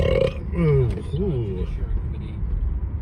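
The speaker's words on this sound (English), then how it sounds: "That was a French fry burp." A burp after eating french fries, a short low croaking belch at the start followed by a rumbling drone like passing traffic.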